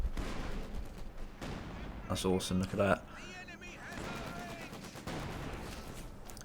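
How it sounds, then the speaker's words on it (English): Artillery barrage in Company of Heroes 2 gives scattered booming explosions and crackling blasts, mid-distance and fairly quiet, with someone talking excitedly partway through. "Company of Heroes has got some great explosion effects."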